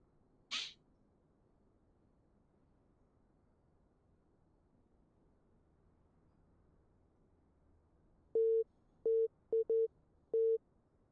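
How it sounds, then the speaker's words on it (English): Morse code radio tones in the radio room of the LZ129 Hindenburg in Microsoft Flight Simulator 2020: a short series of steady beeps of varying length, clear against a quiet background after a brief earlier chirp. "Send Morse code messages."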